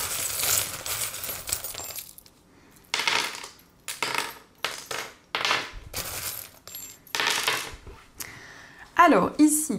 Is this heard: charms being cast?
yes